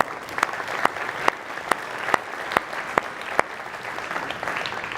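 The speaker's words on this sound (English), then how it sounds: "I'd like to show our appreciation with a round of applause for these folks." Steady applause from a conference audience honoring event organizers, a continuous wash of clapping with a few sharper individual claps standing out at a regular pace.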